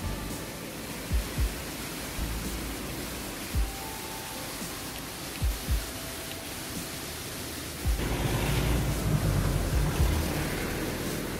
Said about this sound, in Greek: κάναμε μία στάση για να απολαύσουμε τους μικρούς καταράκτες.